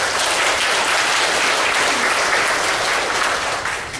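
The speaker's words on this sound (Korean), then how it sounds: "격려의 박수 한번 크게 하시죠." Church congregation giving a big round of encouraging applause after a choir's hymn, dense, loud and continuous, tapering slightly at the end.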